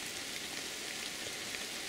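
Steady rain falls on a riverside during a fishing trip, a dense, even hiss of drops that stays constant throughout with no talk.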